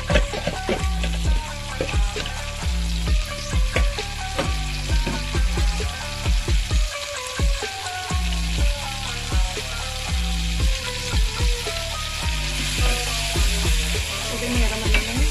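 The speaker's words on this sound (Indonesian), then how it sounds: "kita goreng hingga daging matang dan tercampur rata dengan margarin" Beef fries in melted margarine in a pan, a loud, continuous sizzle with rhythmic scraping and stirring strokes throughout, up close and with no talk.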